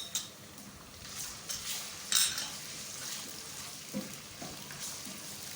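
Onions with ginger garlic paste being stirred and fried in a karahi, with soft sizzling under clinks and scrapes of a spoon against the metal pan, fairly quiet and close.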